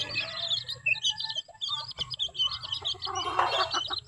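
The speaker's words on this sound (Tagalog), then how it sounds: "Ito naman sa kabila, ito yung bagong sisiw na muli." Chickens and newly hatched chicks clucking and cheeping nearby in a steady, busy flock chatter, with one brief louder squawk near the end.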